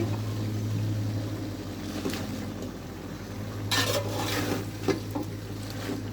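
Malabar spinach is stirred in a cooking pan, with a low steady hum under occasional scraping and clinks of a spatula against the metal, plus a few louder stirring bursts.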